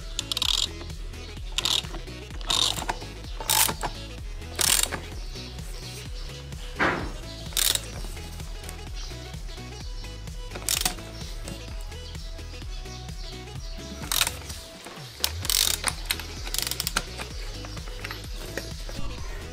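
Ratcheting clicks come from tightening the primary gear during a Yamaha DT125 motorcycle restoration, sounding as close, irregular bursts of metallic clicking separated by short pauses.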